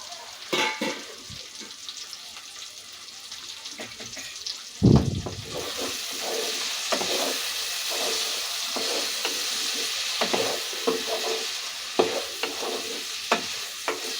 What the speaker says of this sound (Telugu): చూడండి, ముక్కలు అయితే మగ్గుతున్నాయి కదా